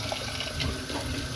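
Tap water running into a pot of potatoes, a brief steady splashing stream, close and alone.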